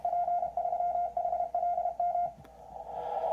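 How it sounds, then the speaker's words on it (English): A pure CW Morse tone from a Yaesu radio with a 500 Hz filter beeps in a steady keyed rhythm of dits and dahs, then holds as a continuous tone with faint background hiss. "So you're just basically hearing pure CW tone by doing that."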